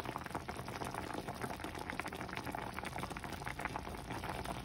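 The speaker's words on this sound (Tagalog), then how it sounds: "Ngayon nakulo na ng ayos" Tilapia adobo in soy sauce boiling steadily in a pot, a dense continuous bubbling and simmering close by with no talk.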